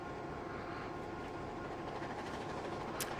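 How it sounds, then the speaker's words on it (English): A train passing in the Transport Fever 2 video game, a steady dense rumble with engine drone that holds evenly at moderate loudness throughout, no speech over it. "this train coming up here"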